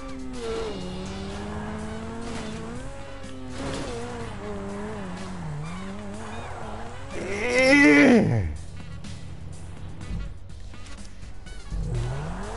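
Car engine revving in GTA 5 Online, a steady droning tone that rises and falls through gear changes, swelling to a louder screeching peak near the middle before settling back to a lower rumble.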